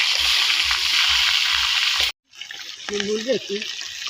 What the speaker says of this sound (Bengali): মাছের মাথায় লবণ আর হলুদ দিয়ে মাখানো হয়ে গেছে আর আমাদের তেলও গরম হয়ে গেছে এবার এগুলো দিয়ে দিব আর লাল লাল করে ভেজে নিব